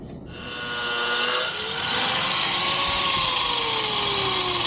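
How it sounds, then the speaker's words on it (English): A bolt being cut out on a Dodge during an adjustable AAD toe arm install: a steady, loud, close grinding cut with a harsh rasping whine that runs continuously with no talk. "So you got to cut the bolt out to drop everything"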